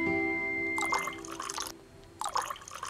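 Water poured into a glass in two short bursts, a bright splashing trickle close by over a steady tonal hum, with a brief pause between pours.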